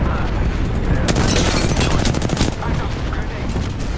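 Rapid gunfire bursts and booming blasts from an Apex Legends match, loud and close, crackling in dense volleys with a brief voice underneath.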